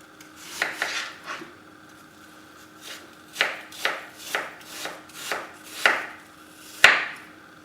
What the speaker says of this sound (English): I'm going to chop this very fine.